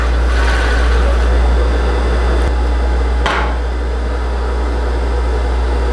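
A coverstitch sewing machine stitches fabric after its yellow thread tension is tightened, producing a loud, steady motor drone with a couple of brief mechanical clicks near the end.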